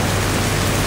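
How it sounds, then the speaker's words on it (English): Steady rain falls in Calabria, Italy, outside a coffee shop, a dense, even hiss with no breaks. "It has not stopped raining."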